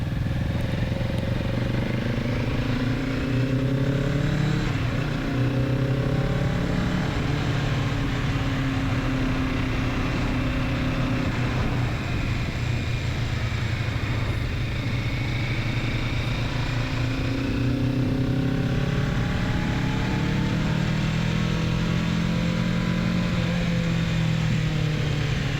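A 2024 Kawasaki Z650RS motorcycle rides through downtown Reno, its engine droning continuously with rising and falling revs as it shifts, steady and close throughout with wind noise over it.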